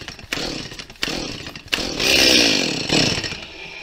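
A Stihl chainsaw is started for the first time with the throttle trigger held and the choke fully closed. Several sharp rasping pulls of the starter cord come close and loud, with a brief rougher burst near the middle.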